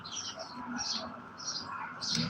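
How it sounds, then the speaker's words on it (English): Sparrows chirp repeatedly in short bursts of high twittering, somewhat distant and faint, with a quiet voice murmuring underneath. "the sparrows more specifically, chirping away for all of our ears"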